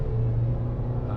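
Tata Safari or Harrier petrol engine accelerating hard from 0 to 100, a brief, steady, loud low engine rumble with no break.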